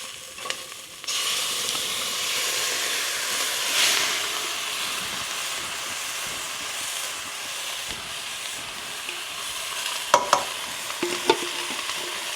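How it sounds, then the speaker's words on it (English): A can of beans drops into a hot pan for loaded baked beans with meat, then a continuous loud sizzle and frying hiss runs under scraping stirring, ending in a few sharp spoon clanks against the pan, with no talk. "Next, we're going to drop in the beans."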